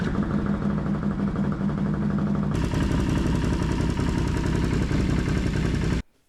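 A Can-Am 1000 engine runs after a valve clearance adjustment, a loud, close, steady mechanical clatter that grows fuller and busier partway through, then cuts off abruptly.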